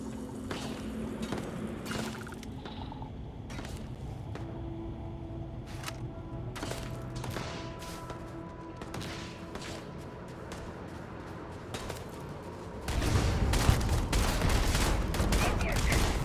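Gunfire from a fight in the video game Starfield, rapid bursts crackling under a steady game soundscape, growing louder and denser toward the end.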